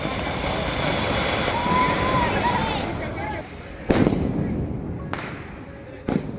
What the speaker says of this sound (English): The nights are decorated with crackers bursting all around.